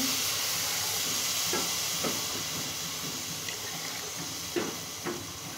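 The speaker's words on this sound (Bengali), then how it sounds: "আমি 2 কাপ চালের জন্য 4 কাপ পানি দিয়ে দিচ্ছি।" Water hitting rice frying in a pot for pulao, a steady broad hiss of sizzling steam with a few soft clicks and stirring knocks, fading slightly as it settles.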